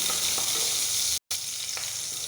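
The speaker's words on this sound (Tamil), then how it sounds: "லேசாக வதக்கலாம்" Green chilli and ginger sautéing in a pan for curd rice tempering, with a steady close sizzle and light stirring scrapes throughout, briefly cutting out for a moment midway.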